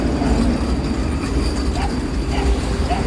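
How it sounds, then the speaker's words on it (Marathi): A Vande Bharat Express train rushes past close by, a loud continuous roar with faint rail clatter throughout, heard at a festival in Cumbharjua, Goa. "ये जो ट्रेन है ना वंदे भारत एक्सप्रेस है"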